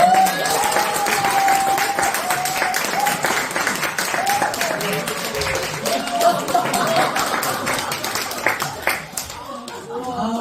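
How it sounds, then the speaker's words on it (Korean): A church congregation applauds during a Sunday worship service, the broadband clapping steady and loud for about nine seconds, with a voice speaking over it near the start before the applause thins out at the end. "박수 한번 주세요."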